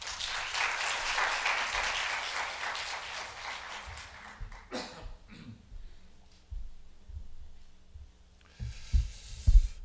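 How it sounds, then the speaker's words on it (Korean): A church congregation claps during a Sunday service as the pastor comes forward, a dense burst that fades after a few seconds into quiet footsteps and small room sounds. "목사님 나오실 때 우리 한 번 더 박수합시다"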